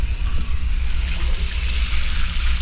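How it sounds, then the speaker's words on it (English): A shower runs aboard a luxury sleeper train from Stockholm to Swedish Lapland, a continuous close hiss of water spray with steady pressure and a low rumble beneath. "The shower was warm and had great pressure too."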